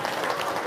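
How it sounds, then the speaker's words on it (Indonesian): Applause from a small audience at a talk or gathering, a dense, steady patter of clapping hands that fills the short moment at moderate loudness, with no other sound standing out. "Wow, tepuk tangan dong."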